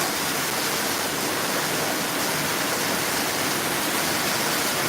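Heavy hail and rain pour down outside a doorway, a dense, loud, unbroken hiss of falling water and pellets with no pauses and no voices.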